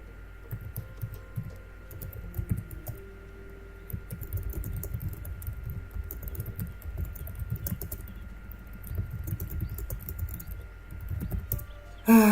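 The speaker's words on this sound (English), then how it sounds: "I'll just type that." Computer keyboard typing comes in soft, quick bursts of clicks close by, with short pauses between runs and a louder click at the end.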